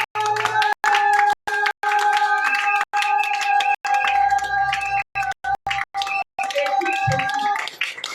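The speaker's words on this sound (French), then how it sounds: "Acclame le plus fort." A church congregation claps rhythmically and cheers in praise, loud repeated handclaps over sustained sung or shouted tones, with brief pauses between bursts.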